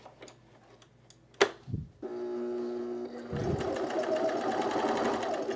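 A serger sewing machine stitches a men's utility jacket, starting with a few clicks and thumps, then a steady mechanical whirring hum that grows louder and runs to the end.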